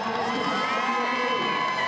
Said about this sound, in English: Crowd behind Shelby Neal